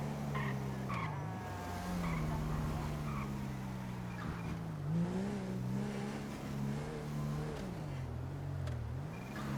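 A car in GTA with the LSPDFR police mod driven hard, its engine droning with rising and falling pitch as it revs and shifts, a brief tire skid partway through, steady and close throughout.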